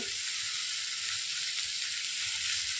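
Fennel seeds and whole spices sizzle in hot oil for Punjabi-style mutton, giving a steady, close, bright frying hiss with no talking.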